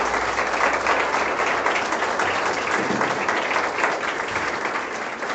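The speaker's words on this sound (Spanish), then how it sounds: "Denle un aplauso, Señor." A church congregation applauds at the close of a sermon, a dense, steady wash of many hands clapping that stays loud throughout and eases slightly at the very end, with no voices over it.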